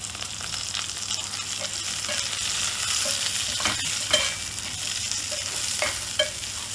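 Clams masala with green chillies stir-fries in a pan, a steady close sizzle broken by repeated scraping and tapping of a spoon against the pan, with no talk.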